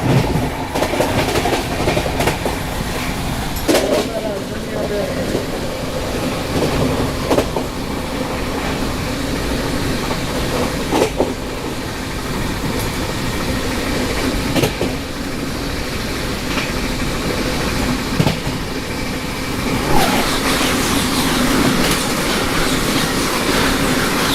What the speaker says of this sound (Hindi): अभी सामने से ये आ रही है सियालदा नई दिल्ली राजधानी एक्सप्रेस